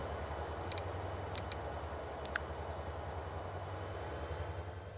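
A freight train runs in Transport Fever 2 with a low, steady rolling rumble underneath, broken by a few short, sharp clicks or clanks; quiet and continuous, with no voices.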